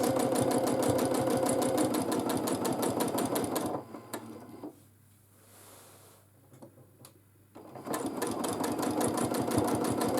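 A sewing machine stitches steadily during a beginner free-motion quilting session, running in a fast, continuous loud rhythm that stops for a few seconds mid-clip and then resumes.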